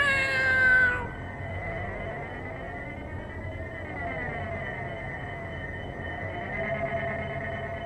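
A cat meows in a short, high, harmonic call at the start, then a quieter drawn-out vocal tone holds steady over soft background noise for several seconds.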